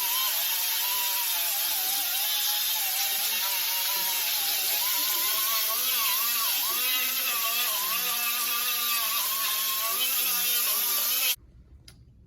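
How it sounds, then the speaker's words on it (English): Finishing welds go onto a board track racer replica frame with a loud, steady, crackling hiss that runs unbroken for about eleven seconds, then stops abruptly, leaving near silence. "I'll go ahead and hit it with some finishing welds"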